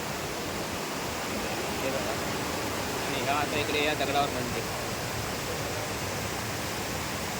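Steady broadband rush of strongly flowing rain-swollen water near a temple fills the clip, with people talking faintly over it midway.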